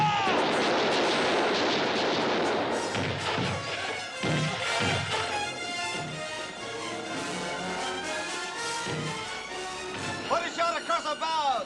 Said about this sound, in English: Put a shot across the bows!